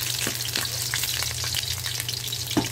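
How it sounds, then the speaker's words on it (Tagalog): Garlic fries in hot oil with a steady, dense sizzle, and a few soft stirring scrapes come through close up. "Maglagay tayo ng mantika. Ilagay na natin ang ating bawang."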